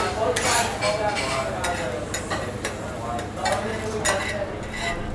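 A super thin folded egg omelette cooks in a hot pan with a steady sizzle, while a utensil scrapes and taps against the pan in short strokes, all close and continuous.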